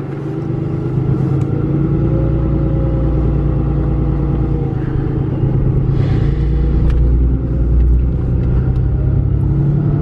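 A Cummins 6.7L diesel pickup truck with a G56 manual transmission creeps along slowly in first gear, giving a steady, loud low engine rumble and drone that holds throughout with no talking.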